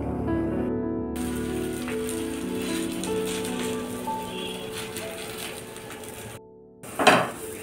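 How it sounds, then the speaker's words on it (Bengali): Methi parathas fry in white oil on a hot tawa with a soft crackling sizzle under background music, followed by a short clatter near the end. "এভাবে পরোটাগুলো ভেজে নেব"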